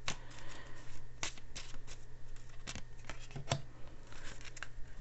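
Moon Oracle cards are shuffled by hand, a close, soft run of riffling and sliding with a few sharper flicks, heard alone without talk.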